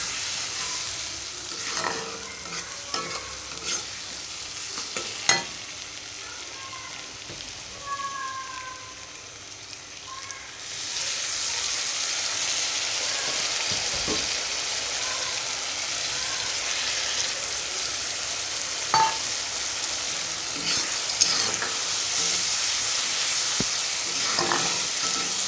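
Spice paste with dried chilli powder is fried and stirred for a Bengali bata fish curry. A quieter sizzle with spatula scrapes swells into a loud, continuous hiss halfway through, with occasional sharp clanks.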